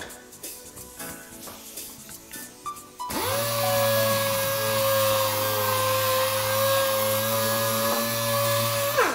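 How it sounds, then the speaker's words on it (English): A steady, loud power-sander whine starts after a few seconds of quieter handling noise, sanding a cured carbon fiber laminate part, continuous and close with no talk. "now we're going to sand it"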